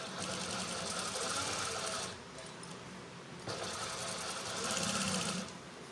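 A sewing machine stitches a kameez in two bursts of rapid mechanical chatter with a short pause between them, close and fairly quiet, with no talk.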